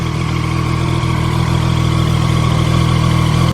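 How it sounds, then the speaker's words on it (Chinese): A ZXMOTO sport motorcycle engine idles steadily up close, a continuous low mechanical rumble with a faint whining, kettle-like whistle from its gear drive running through it, louder than the exhaust, no talking. "但是怠速的時候聲音就不太行了，怠速的時候排氣聲蓋不住發動機聲"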